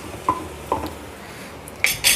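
Macaroni being mixed with chopped vegetables in a pressure cooker, a few separate metal spoon scrapes and clanks against the pot, spaced out and close, with a brighter clatter at the end.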